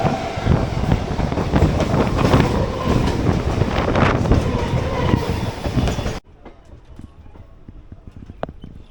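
A local train on the Kolkata to Bolpur line rumbles along with dense rhythmic clatter of wheels over rail joints, loud and continuous, then drops abruptly to a quieter carriage ambience with faint clicks.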